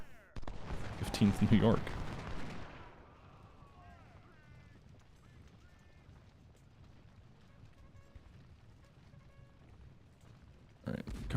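Gunfire in the Ultimate General: Civil War video game, a loud dense burst of shots and volleys over the first few seconds, then a quieter battlefield backdrop with a sudden loud crack at the end, under a man's speech.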